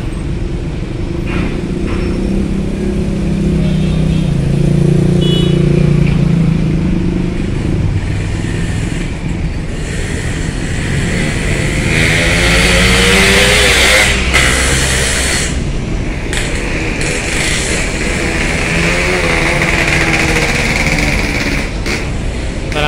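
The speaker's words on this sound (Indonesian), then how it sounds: "Wah, rombongan motor malam-malam." A night-time convoy of motorcycles boards a ferry at Bakauheni port, filling the air with a loud, continuous drone of many small engines, rising and falling revs, and clattering as the bikes roll past up close.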